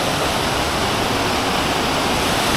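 Salvosa Falls in Brgy. Araibo, Pantukan, Davao De Oro pours in a loud, dense, unbroken roar of rushing water, close by and with no other sounds.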